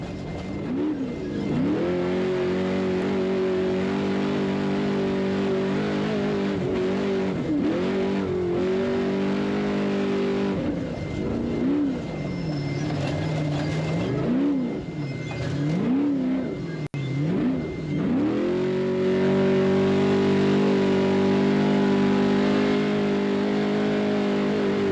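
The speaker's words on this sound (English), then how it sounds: "So let's listen to the throttle." A borrowed race engine in a desert off-road rally revs hard on the throttle, rising and falling in repeated loud pulls before settling into a steady high drone near the microphone.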